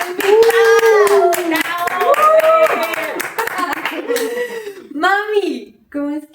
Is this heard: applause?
yes